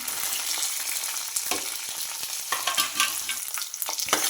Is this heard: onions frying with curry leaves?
yes